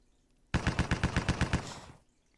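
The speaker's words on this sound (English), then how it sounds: "Machine gun fire." A single burst of machine gun fire in the Heroes of Normandy video game, about ten rapid, evenly spaced loud shots followed by a short fading tail and then quiet.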